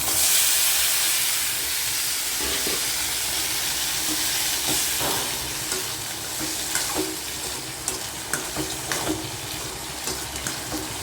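Onion and beans frying in hot oil give a steady close sizzle and hiss that softens over the clip, broken by light stirring scrapes near the end, with no talk.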